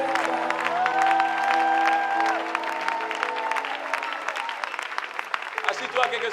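A church congregation claps amid sustained sung or spoken voices and held tones, the applause dense at first and thinning out toward the end.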